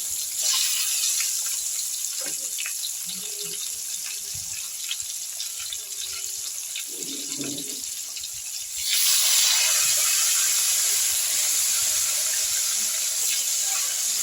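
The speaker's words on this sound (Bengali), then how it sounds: "এর মধ্যে আমি সেদ্ধ করে রাখা ডিম দিয়ে দিচ্ছি" Boiled eggs fry in spiced oil over a raised gas flame, giving a steady broadband hiss that swells louder partway through, with faint clinks underneath and no talking.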